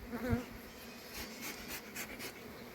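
Honeybees hum around colonies being fed before a move to rapeseed fields, a soft continuous buzz with a brief closer drone near the start, faint and steady beneath a quiet voice.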